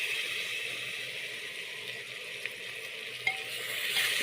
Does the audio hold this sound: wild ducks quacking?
no